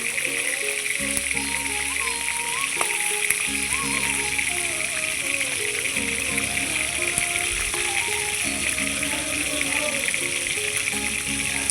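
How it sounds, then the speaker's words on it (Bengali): Hilsa fish heads fry in hot oil in a pan, giving a steady bright sizzle and crackle throughout, heard under background music and a talking voice. "ইলিশ মাছের মাথা ভেজে নিব এই যে ভালোভাবে আমি একটু ভেজে ভেজে নিচ্ছি"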